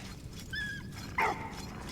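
The dog in Valiant Hearts: The Great War gives a couple of short, faint yips or whines in quick succession, heard alone.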